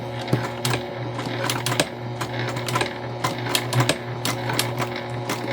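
A sewing machine stitches fabric in a steady, continuous run, sewing about an eighth of an inch from the edge around a project. The close, busy mechanical chatter of the needle carries on throughout, with no talking.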